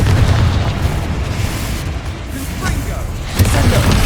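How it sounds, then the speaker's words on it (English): A Confringo fire spell goes off in Hogwarts Legacy, giving loud, rumbling booms at the start and end with a churning blast-like roar in between, and a voice calling out over the effects. "Confringo!"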